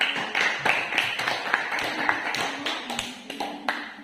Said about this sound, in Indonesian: Mari kita memberikan aplaus untuk kelompok 1